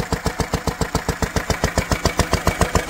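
A Lister D stationary diesel engine running steadily, a close, loud, even thumping beat at a brisk rhythm with no other sounds.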